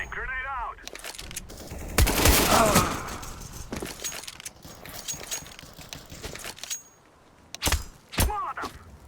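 In a Counter-Strike match there is sharp gunfire, then a loud blast from a thrown flashbang or grenade, followed by more scattered shots and bursts amid game effects, all heard close and loud.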